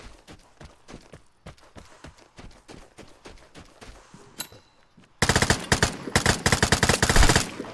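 Rapid video game gunfire, a steady train of sharp shots that grows into a louder, dense automatic burst near the end, ending in a headshot kill, with no voices.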